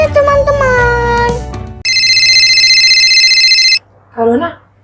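An electronic telephone ringtone sounds for an incoming call, a steady bright tone held for almost two seconds. Talking comes before it, and a brief voice follows.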